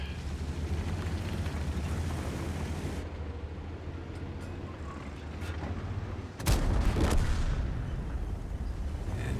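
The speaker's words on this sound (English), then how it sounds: "Raptor Freak fires his gun." Tank gun firing in World of Tanks, a steady low rumbling battle ambience broken by a sudden heavy boom about two-thirds through, with resonant rumble trailing after.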